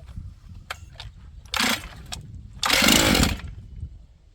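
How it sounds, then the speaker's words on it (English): Two sharp pull-start bursts from an auction chainsaw on full choke, the second longer, close and loud, with a few softer clicks and rattles before and between. "Okay, full choke."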